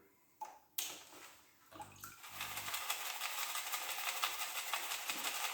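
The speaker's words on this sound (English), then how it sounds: "my classifier is just a kitchen strainer, so kind of want to get the bigger stuff out of here." Gold-panning material from a half-gram paydirt bag is shaken through a kitchen strainer in water, giving a close, steady wash of sloshing and gritty rattling after a couple of sharp clinks at the start, with no talking.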